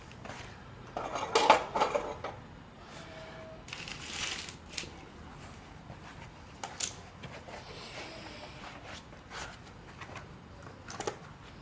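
Spilled molten metal scraped back into a melting pot, quiet metallic scraping and clinks with a brief louder rattle near the start, scattered softer scrapes after.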